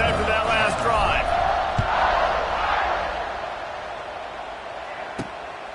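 Stadium crowd cheering at a college football game in the video game NCAA 26, a broad roaring swell that slowly fades, with a commentator's voice talking over it and a couple of sharp thuds.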